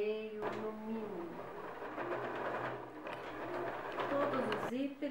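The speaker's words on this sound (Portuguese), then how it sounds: "Agora eu vou rebater a costura desse zíper aqui" A sewing machine topstitches a zipper seam on a three-zipper cosmetic pouch at a long stitch length, its continuous whirring running low beneath a person talking throughout.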